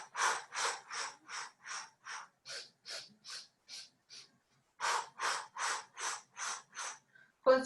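Sharp, regular exhaled breaths during a Pilates exercise, about a dozen in steady rhythm, a short pause, then another run of paced exhales, close and fairly quiet.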